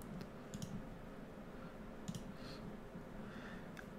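Faint computer mouse clicks during a CrashPlan setup on a Synology or XPenology system, a few scattered sharp ticks over a quiet background hum, with no talk.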